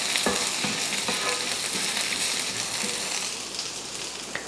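Dal and onion fry in a pan as about six dried red chillies go in, a dense continuous sizzle with a few stirring knocks early on, easing slightly toward the end.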